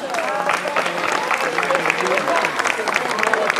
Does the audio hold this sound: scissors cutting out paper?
no